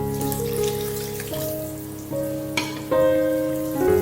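Water trickles and splashes into dumpling dough as it is stirred, a continuous wet pouring sound with tonal ringing from the bowl, fairly close and steady.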